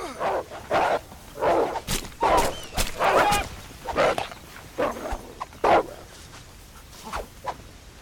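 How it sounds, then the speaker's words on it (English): Wolves in the video game Red Dead Redemption give off a rapid series of close, loud barks, yips and whimpers that come in irregular bursts throughout. "Okay, I hear wolves."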